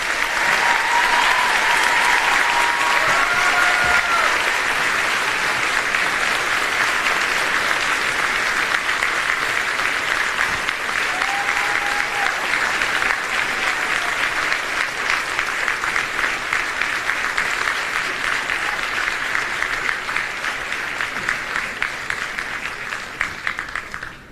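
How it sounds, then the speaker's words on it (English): Sustained applause from a graduation audience, steady and dense throughout and slowly tapering toward the end, with faint whistles or cheers early on. "please give a round of applause."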